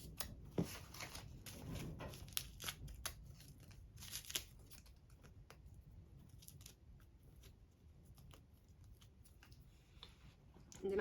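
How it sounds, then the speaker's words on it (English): Scissors snip away excess thread from machine embroidery on a Christmas sweater, a scatter of quiet, close, crisp cuts and faint rustling of tear-away stabilizer in an otherwise quiet room. "I'm gonna cut off the extra thread"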